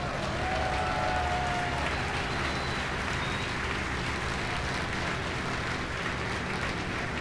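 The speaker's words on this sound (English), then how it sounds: "You can hear the applause behind me" Mission control applause during a Starship Super Heavy launch, a dense, steady wash of clapping heard at a distance and sustained without a break.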